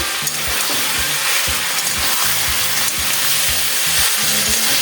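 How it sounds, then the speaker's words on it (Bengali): Chicken sizzles steadily in hot oil for chicken do pyaza, a dense crackling hiss close by, with rhythmic clinks and scrapes of a spoon stirring the pan throughout. "আমার চিকেনটা কষানো হয়ে গেছে তেল ছেড়ে দিয়েছে"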